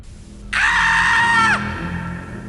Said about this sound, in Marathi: हा किंचाळण्याचा आवाज